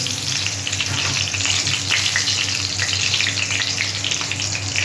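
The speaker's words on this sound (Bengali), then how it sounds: "তেল গরম হয়ে গেছে, আমি এখানে 5 ফোড়ন দিলাম" Panch phoron spices sizzling steadily in hot oil in a pan, a continuous loud crackling fry with no talk, cooked for a prawn and bori dish.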